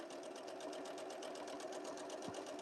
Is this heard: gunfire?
no